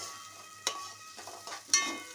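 Fish frying in a pan for a Telugu-style fish curry, with soft sizzling and a few sharp stir or spatula clatters, close and fairly quiet with no talk.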